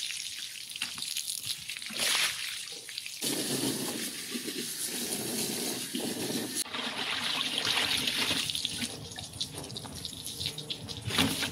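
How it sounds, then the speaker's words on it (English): Water trickles and drips continuously from a tanned fallow deer hide into a sink, a close, steady splattering wash with no talking. "it's just dripping into the sink now"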